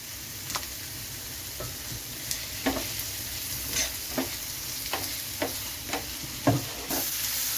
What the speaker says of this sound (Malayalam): അപ്പോൾ ഇനി നമ്മുടെ സവോളയൊന്ന് വഴന്നു വരുന്നിടം വരെ നമുക്ക് വെയിറ്റ് ചെയ്യാം